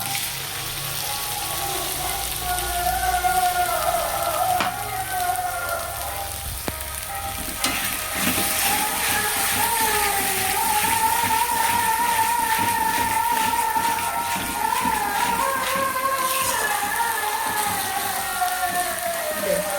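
Tomato paste frying in a pan, a close, steady sizzle and crackle with stirring scrapes throughout, under faint background voices.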